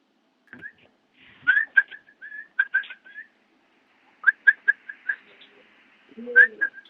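A person whistles close by in short, high bursts and trills to call racing pigeons home, with quiet gaps between the phrases.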